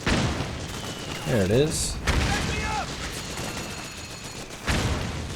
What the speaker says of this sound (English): Watch out for that mortar fire.